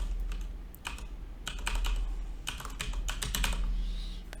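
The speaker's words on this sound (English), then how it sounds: "then we'll type the domain name here." Computer keyboard typing as a domain name is entered, quick bursts of close keystrokes in uneven clusters with short pauses, no voices.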